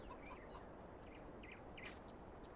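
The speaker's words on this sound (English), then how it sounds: "The chickens got more cooling area." Chickens cluck in scattered, faint calls over a steady ambient farm background in the video game Farming Simulator 19, with no talking.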